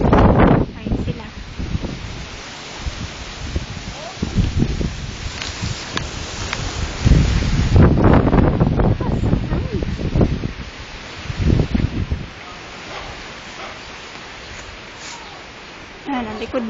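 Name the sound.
strong wind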